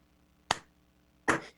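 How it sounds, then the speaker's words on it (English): A single person gives a slow clap: two sharp, separate claps about a second apart in a quiet room. "The slow clap."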